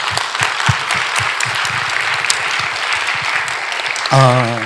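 A church revival meeting audience claps steadily for several seconds, with a brief musical tone near the end.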